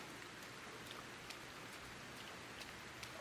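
Steady, soft rain falls in the Sengoku Dynasty video game as an even hiss with faint scattered drop ticks, quiet and distant, with no voices.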